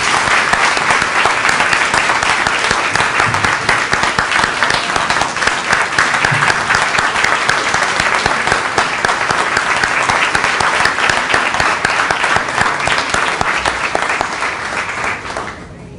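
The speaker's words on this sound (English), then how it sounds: "Let's have one final round of applause for all of our STAR teachers and our STAR students" A sustained round of audience applause at the 2016 STAR teacher and student awards ceremony, dense steady clapping from a large crowd in a hall, lasting without a break before tapering at the very end.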